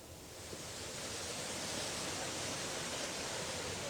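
Swollen river current during a flash flood in Sumatra roars as a steady, dense broadband rush of water, loud and unbroken for several seconds with no voices over it.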